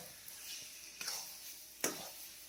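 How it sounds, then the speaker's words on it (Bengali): Thick amla chyawanprash with honey being stirred in a kadai, giving a faint continuous scraping sizzle with two sharper scrapes of the spoon against the pan. "তাও দেখুন সারাক্ষণ নাড়ছি, তাও কিন্তু কড়ার মধ্যে হালকা হালকা বসে যাচ্ছে"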